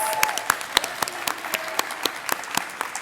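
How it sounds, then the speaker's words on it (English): An audience at a leadership breakfast claps for a high school senior class, a lively spread of hands with sharp individual claps standing out near the listener, sustained throughout. "Let's give them a round of applause."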